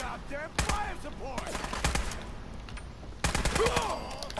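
An AK assault rifle converted to fully automatic fire in modded Fallout 4 rips off several sharp bursts of rapid shots with short pauses between them, while someone talks over the shooting.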